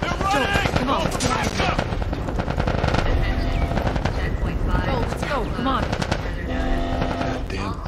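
Dense, continuous machine-gun fire roars through a Last of Us Part 1 shootout against Fireflies, loud and close, with overlapping bursts and a fire burning nearby, while characters shout over the gunfire throughout.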